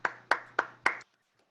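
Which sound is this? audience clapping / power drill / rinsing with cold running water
audience clapping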